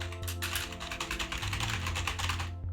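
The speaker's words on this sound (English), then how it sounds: "What's the occasional click? Loose spacebar? Yeah, I have clacky clacky." Rapid, continuous typing on a clacky mechanical keyboard with a loose spacebar, the keys clattering close and dense with an occasional louder click, over a faint steady hum and without talk.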